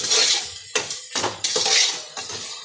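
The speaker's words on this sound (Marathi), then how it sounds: "मटर टाकलेले आहेत आता त्याला परत परतून घ्यायचं" A spatula scrapes and turns masala rice with peas and potatoes in a metal pan, making several loud, close scraping strokes in an uneven rhythm with no talking.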